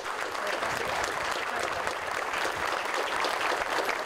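Crowd of mourners applauding steadily as a lawyer's body arrives at a funeral wake, a dense, continuous clapping that holds at an even level throughout with no talk over it.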